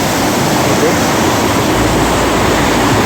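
A rushing stream in dense rainy-season forest, a loud, steady broadband roar of flowing water that fills the whole short stretch without a break.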